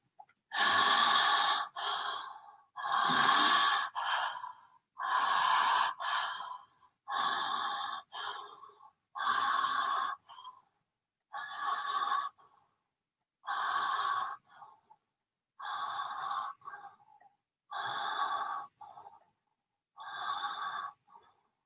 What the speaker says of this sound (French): Par la bouche, accent sur l'inspire et c'est par la poitrine.